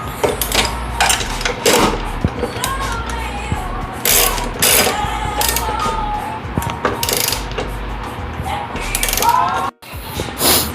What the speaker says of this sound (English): Now we can tighten up all the strut bolts.